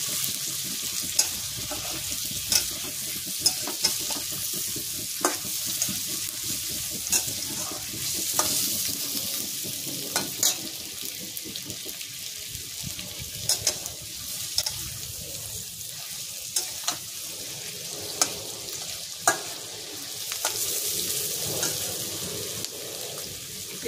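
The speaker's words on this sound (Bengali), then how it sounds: "মাখনের সঙ্গে ভাজা হচ্ছে তো পেঁয়াজ রসুন" Gentle sizzling of onion and garlic frying in butter runs throughout, broken by scattered clicks and light scrapes of stirring, fairly quiet and close.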